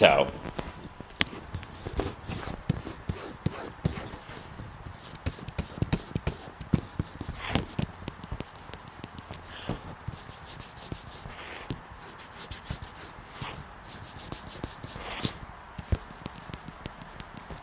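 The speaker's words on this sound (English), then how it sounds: "I want to take my mic and just kind of rub the surface of each of them" Close, scratchy rubbing and scraping of a microphone over textured gesso and wood glue surfaces, uneven and continuous, with soft bumps and brushing strokes throughout.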